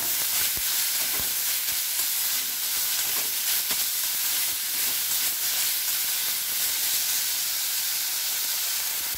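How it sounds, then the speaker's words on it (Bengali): Chopped kalai greens fry in a pan with a loud, dense, unbroken sizzle and hiss, broken by a few brief clicks of a utensil near the start. "এবার কলাই শাক কুচানোটা দিয়ে দেবো ওর মধ্যে।"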